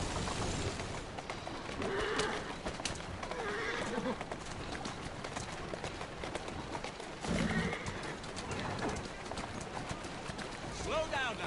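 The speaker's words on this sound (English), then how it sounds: "Who's a good horse? You are." A horse in Assassin's Creed Syndicate trots on city streets with steady clip-clop hoofbeats, neighs briefly among busy street noise and birds, while a person talks throughout.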